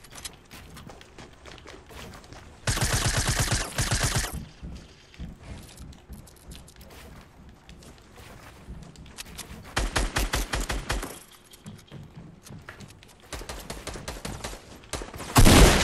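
Video game gunfire: two long, loud automatic bursts and scattered single shots, with a final sharp burst near the end over a quieter background.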